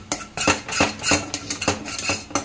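A spoon scrapes and clinks against a pan while besan and turmeric are stirred in a tempering, with repeated rhythmic strokes, fairly close and moderately quiet, no voices.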